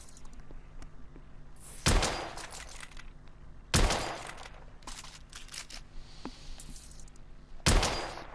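Weapon test-firing in The Order 1886, three sharp loud shots spaced about two seconds apart, each with a short decaying tail, plus fainter mechanical clicks between them.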